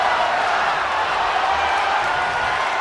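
Crowd roar from a WWE 2K24 wrestling arena, a dense steady wash of cheering noise that stays loud and unbroken throughout, with no clear individual voices standing out.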